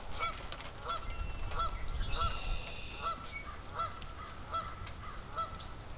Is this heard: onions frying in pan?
no